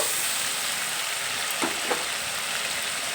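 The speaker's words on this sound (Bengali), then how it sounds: "হলুদ গুঁড়ো দিয়ে একটু নেড়ে চেড়ে নেব।" Spices with turmeric powder frying in a pan give a steady soft sizzle, broken by two brief scraping stirs near the middle.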